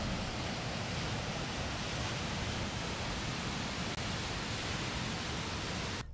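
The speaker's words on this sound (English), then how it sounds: "This is a waterfalls about halfway up to the upper Latourall Falls." A waterfall partway up the trail to upper Latourell Falls in the Columbia River Gorge, a steady, dense broadband roar filling the whole clip at close range, unbroken and without voices.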